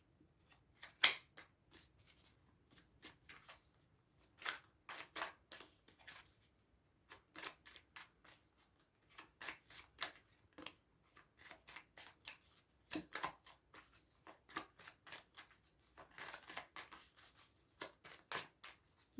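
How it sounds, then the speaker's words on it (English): Tarot cards snapped and shuffled by hand in quick, irregular bursts of crisp flicks and slaps, close and fairly soft, with no voices. "I'm gonna pull a few more cards"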